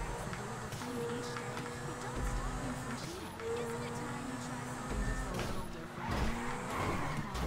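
Car drifting with tire squeal in GTA Online, a steady engine roar with screeching tire tones rising and falling over about seven seconds, with someone talking over it.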